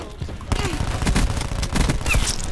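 Cluster grenade explosions in Call of Duty Black Ops 4, a rapid ragged string of loud blasts and pops in quick succession, continuing without a break.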